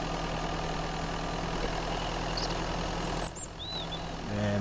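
Car engine idling in the survival game Mist Survival, a steady low rumble holding throughout with faint bird-like chirps above it, ending with a short change as the engine cuts.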